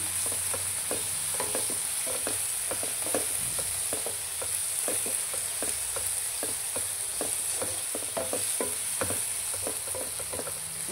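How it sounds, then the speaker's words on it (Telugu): Egg cashew gravy with curry leaves is stirred in a pan: a continuous sizzle under a steady series of quick spoon scrapes and taps against the metal, close and uninterrupted, with no one speaking. "వేసుకొని బాగా కలుపుకోవాలి. కరివేపాకు ఉంటే వేసానండి."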